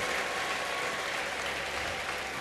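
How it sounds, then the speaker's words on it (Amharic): A church congregation claps steadily, a dense, sustained wash of applause that stays loud and even from start to finish. "እስቲ ለእናንተ እስቲ በሱ ፋንታ በደንብ አጨብጭቡ፣ አመስግኑለት።"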